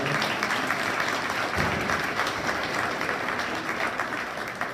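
A crowd applauds kids at a goat show, a steady patter of many hands clapping at moderate level throughout, with no speech over it.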